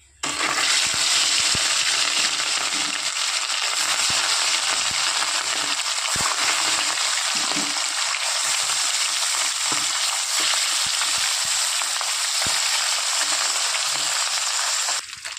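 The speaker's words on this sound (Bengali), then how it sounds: "তেলটা ভালো মতো গরম হয়ে আসলে এক এক করে মাছগুলো ভেজে নেব" Rohu fish pieces fry in hot mustard oil in a kadai, giving a loud, steady, close sizzle that runs unbroken for the whole stretch, with occasional small clicks and taps over the crackling.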